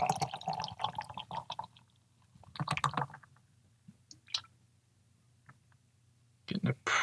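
A can of Ascension Brewing Company Lost in the Sauce New England style double IPA being poured into a glass, with bursts of glugging and fizzing liquid separated by pauses, close and moderately loud.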